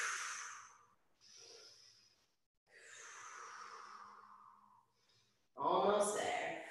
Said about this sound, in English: Just keep breathing.